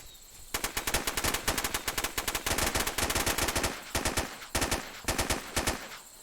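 SOCOM 2 gunfire online, rapid automatic bursts rattling loud and close in several long strings separated by short pauses, with no talking.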